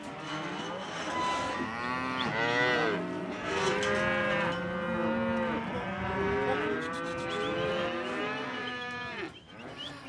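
About 300 head of cattle moo continuously during a muster in the Australian outback, long low calls overlapping from several animals near and farther off, with no pause throughout.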